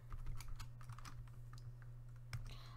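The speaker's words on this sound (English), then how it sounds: "this is a lot of clicking to do" Rapid, faint clicking from a computer mouse during a Bloons TD 5 session, a dense irregular patter running throughout over a steady low hum, with no talk.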